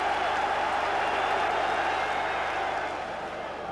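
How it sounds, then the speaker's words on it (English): A football crowd at Highbury's North Bank applauds in a steady, dense wash of clapping and crowd noise for Arsenal in the 1991/92 season, continuous and broad throughout. "And even the North Bank joins in the applause."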